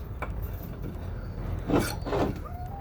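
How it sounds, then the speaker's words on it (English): Short scraping and grinding strokes of a drill bit cleaning inside a brake caliper bore, two louder passes near the end, in a quiet room. "let me go through each one just a couple more times with the drill bit"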